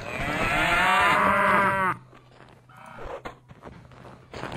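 A single loud, drawn-out cow moo from the Survivalcraft 2 video game lasts about two seconds, followed by quieter scattered clicks and rustles.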